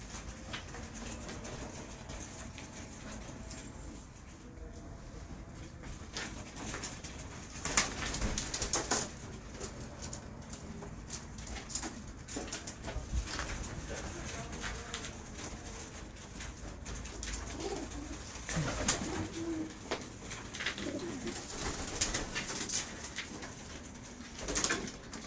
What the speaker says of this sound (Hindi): देखो जरा कबूतर